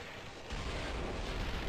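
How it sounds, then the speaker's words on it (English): A burst of explosive noise from the Vanquish video game swells in after a brief quieter lead-in, then holds as a dense, sustained rumble through the rest of the moment. "Explosion!"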